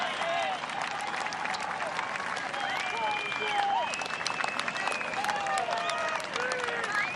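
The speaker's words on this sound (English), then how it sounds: "large crowd giving an ovation, well deserved for Chun and Lexi Thompson" Large golf gallery applauding steadily at the 2022 KPMG Women's PGA Championship final round as In Gee Chun and Lexi Thompson walk to the final green, dense sustained clapping with scattered cheers and some voices throughout.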